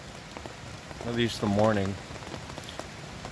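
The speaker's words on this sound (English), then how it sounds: "Maybe the rain will let up here and there too." Rain patters steadily on a tarp at a winter campsite, a soft continuous hiss with scattered drops, while someone speaks briefly over it partway through.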